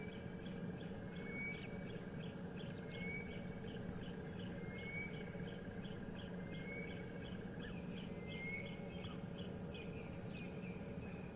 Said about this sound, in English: The bird that we could hear calling off in the distance there